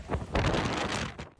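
Strong wind gusts during Storm Lillian in Yorkshire, a loud roaring rush buffeting the microphone in surging waves, with no voices over it.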